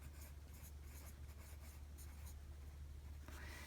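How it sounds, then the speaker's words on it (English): A pen scratches across paper in a budget notebook, making quiet, continuous strokes with small rhythmic pauses over a low background hum. "The next thing that you want to do is write all of your income."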